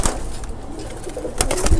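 A large tournament racing pigeon coos on a home rooftop loft, giving soft, low, throaty calls close by, with light rustling and possible wing flutters around them.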